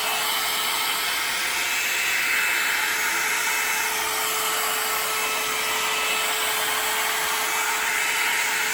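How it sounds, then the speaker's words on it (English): A heat gun blows steadily over acrylic resin paint poured on a 12 x 12 inch cradled birch panel, a constant loud, close airy roar with a faint whine that holds unchanged throughout, with no talking. "now I'm going to use my heat gun, and we're going to heat it up"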